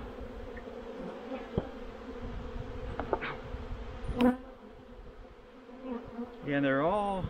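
Honeybees buzz steadily at an opened hive in spring, a dense continuous hum with a few closer bees droning past, and a bee passing near the end rises and falls in pitch.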